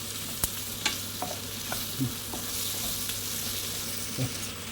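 Chicken for biryani sizzles steadily in a pan while it is stirred, with scattered clicks and scrapes of the utensil over a constant low hiss.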